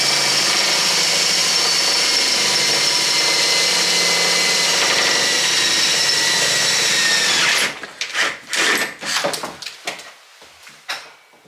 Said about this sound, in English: going to drill the holes in the corners